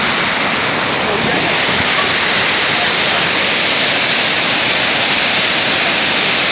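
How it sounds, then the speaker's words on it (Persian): The Iskanderkul waterfall roars as a steady, loud, unbroken wash of rushing water that fills the scene from start to finish. "شرشره اسکندر کول"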